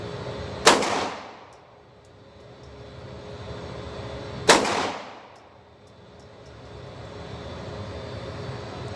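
Two loud, sharp gunshots at an outdoor shooting range, each a sudden crack followed by a long rolling echo. The shots come a few seconds apart, with quiet ambient noise between them.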